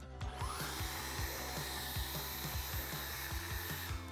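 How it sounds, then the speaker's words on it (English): A leaf blower drying a freshly washed car, a steady close whine and rushing air held at a constant pitch, with a rhythmic low pulsing beneath it and no voices. "Now we're just gonna dry it with a leaf blower here."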